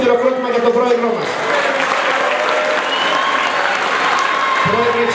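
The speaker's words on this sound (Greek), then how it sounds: "Ένα δυνατό χειροκρότημα για τον πρόεδρό μας." A hall of people at a club pie-cutting and awards event give their president a burst of applause, loud and sustained, with a voice speaking over the start and again as the clapping ends.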